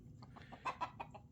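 A flock of hens gives a quick run of soft clucks, several short close calls in a row over faint background noise.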